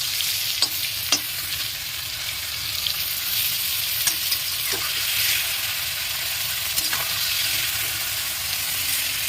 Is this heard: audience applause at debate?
no